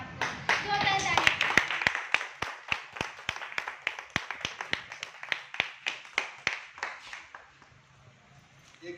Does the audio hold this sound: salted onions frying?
no